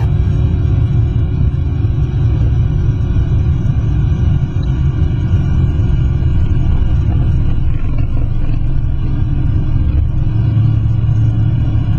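A small training plane's engine roars steadily through the takeoff roll, loud and close with a constant droning rumble inside the cockpit, no voices.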